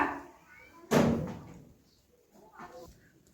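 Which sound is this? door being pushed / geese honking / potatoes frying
door being pushed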